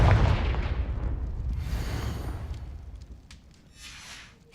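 A Confringo blasting spell explodes in the Hogwarts Legacy video game, a loud booming blast at the start that rolls into a long decaying rumble with whooshing debris tails, with no talk over it.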